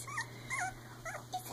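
A three-week-old Icelandic Sheepdog puppy lets out short, close whimpering whines and small growls in a few quick bursts, with no talking.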